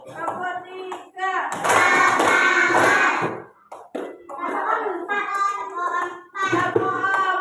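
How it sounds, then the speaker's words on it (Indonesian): A school class claps hands in counted patterns while a teacher leads with spoken counts, with bursts of group clapping between the voices. "tepuk tiga, tepuk satu, tepuk dua, tepuk tiga,"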